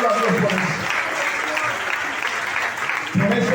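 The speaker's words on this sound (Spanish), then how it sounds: "dale un fuerte aplauso a Jesús" Church congregation applauding during a Spanish-language Easter resurrection sermon, a broad steady wash of clapping filling the room from start to end, with voices mixed in.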